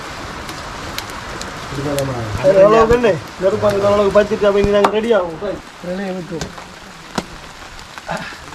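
Steady rain patters outdoors during a fish barbecue cooked in a Sri Lankan forest, a continuous crackling hiss with occasional sharp drops, while someone talks over it.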